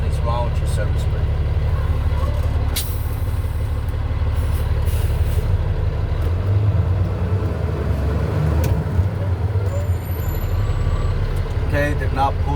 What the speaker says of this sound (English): Drive 5 miles an hour forward, make sure it doesn't pull to the left or right.